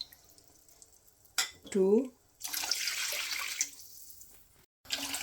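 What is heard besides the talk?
pouring yakhni stock into rice pot for Kabuli Pulao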